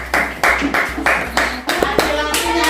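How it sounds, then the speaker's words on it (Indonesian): A class of students claps hands together in a classroom, a steady series of sharp bursts about twice a second, close and fairly loud over a low hum, with a few voices near the end. "Oke, tepuk tangan."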